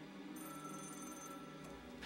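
A telephone rings once in a high, steady tone as a 911 call is placed about a midnight apartment fire, over a constant low background hum.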